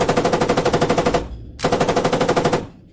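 Two long bursts of light machine gun fire ring out in the tactical shooter Squad, rapid evenly spaced shots separated by a brief pause, loud and close.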